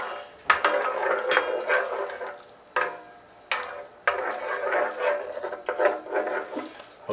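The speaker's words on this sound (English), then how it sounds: "You want to cook this until it's thick and just keep stirring it" A spoon scrapes and stirs thickening chicken pie filling in a pan, with repeated close, uneven strokes and brief pauses between bursts of stirring.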